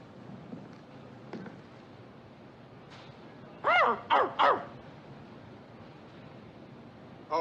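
A man aboard a navy ship imitates a dog, giving three quick close barks in a row, then a single bark after a pause, over a low background hum.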